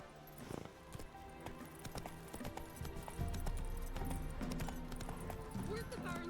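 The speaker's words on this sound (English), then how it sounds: "At sürmemiz gerekiyor." Horse hooves clip-clopping at a riding pace in The Witcher 3 video game, a steady rhythmic gallop with an occasional whinny, heard under people talking.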